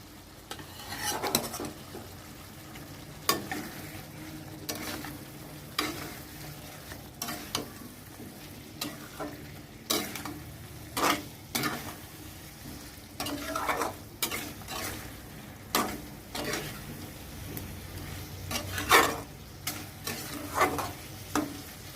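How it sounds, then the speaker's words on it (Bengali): Squash and potato pieces fry in hot oil in a Bengali home kitchen while a spoon stirs them in irregular scraping strokes and clinks against the pan, over a steady close sizzle, with no talking. "এই তেলটা ছেড়ে গেছে বলে এখন আমি কোয়াশ আর আলুটাকে ছেড়ে দিচ্ছি। এবার ছেড়ে দিয়ে একটু নাড়াচাড়া করব।"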